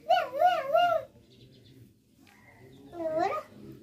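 A person imitates a cat's meow with two drawn-out, wavering vocal calls, one loud at the start and a shorter one near the end, separated by a quiet pause.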